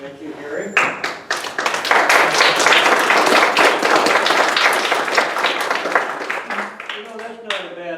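An audience at an election candidates forum breaks into applause, a full, sustained wash of many clapping hands that builds quickly, holds for several seconds, then tapers off as a voice returns.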